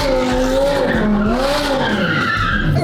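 A car in a video game skids and spins around, a loud sustained tire squeal that bends up and down in pitch over an engine drone, filling the whole moment with no talk.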